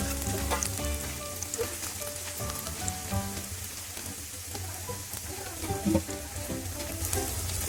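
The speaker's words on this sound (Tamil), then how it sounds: "இப்போ இதில் பிரெட்டெல்லாம் பொரிச்சு எடுத்துக்கலாம்." Bread slices deep-fry in hot oil for bread halwa, giving a dense, continuous crackle of bubbling oil, like rain on a surface, fairly close and even throughout.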